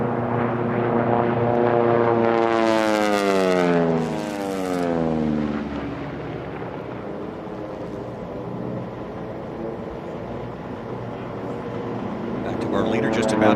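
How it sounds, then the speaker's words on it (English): Racing airplanes with Pratt & Whitney air-cooled radial engines and Hamilton Standard propellers at an air race roar loudly overhead. A deep growl sweeps down in pitch as they pass and fade, then another approaches near the end, with commentary in the mix. "we're going to be able to hear these amazing Pratt & Whitney air-cooled radial engines and those Hamilton standard props"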